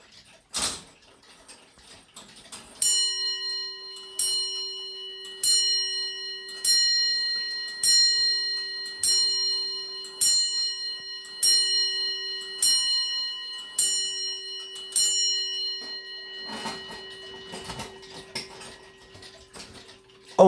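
A collector's clock chimes about eleven evenly spaced strikes, each bright metallic tone ringing with a sustained hum beneath, followed by mechanical clatter as the striking stops, close and clear with no talking.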